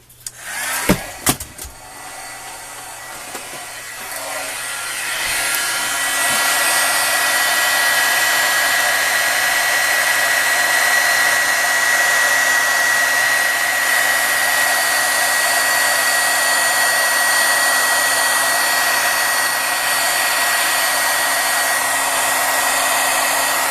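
A heat gun blows hot air over a watercolor resist on a butterfly painting, a loud, steady whooshing hum that starts after a few clicks and runs continuously without talk.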